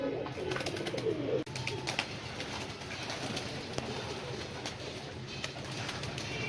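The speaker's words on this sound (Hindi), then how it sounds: "खुश होकर नहा रहे हैं कबूतर।" Pigeons coo softly and repeatedly as they bathe in alum-treated water, with faint splashing and rustling under a steady background hum and one sharp knock partway through.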